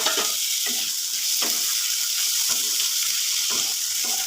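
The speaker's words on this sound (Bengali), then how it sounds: "এবারে টমেটো কুচি আর কাঁচা লঙ্কা কুচি দিয়ে দিলাম।" Chopped tomato and green chilli fry with beans in a pan over low gas, giving a steady close sizzle with periodic stirring scrapes.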